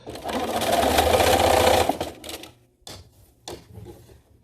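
A sewing machine top-stitching drape fabric runs in a loud, steady burst of rapid stitching for about two seconds, then gives way to a few shorter, quieter stops and starts of the needle.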